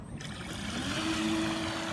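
A CarpMaster PROFI fishing bait boat with a reinforced motor system starts up on the water, a steady mechanical hum rising under continuous water noise, with a faint whine emerging midway.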